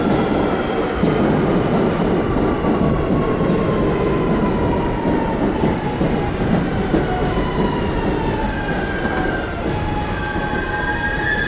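An airport metro train in the United States rolls into a station, a loud steady rumble of wheels on rail with long high squeals and faint clicks as it slows, no voices.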